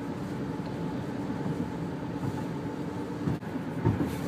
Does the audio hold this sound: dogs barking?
no